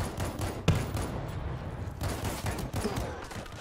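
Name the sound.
grenade launcher fire in the video game World War Z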